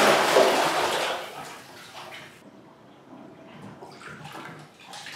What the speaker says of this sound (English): Time to dump out the water.